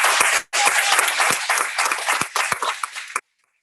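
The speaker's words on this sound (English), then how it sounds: "Give yourself a round of applause." Graduates of a Licensed Practical Nursing graduation ceremony give a loud, dense round of applause that carries on for about three seconds and then stops abruptly, with no speech over it.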